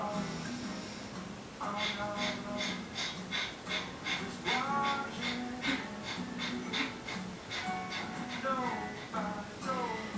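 A person doing a yoga breathing exercise takes repeated deep inhales and forceful nasal breaths in a steady rhythm, close to the microphone, with an instructor speaking over them.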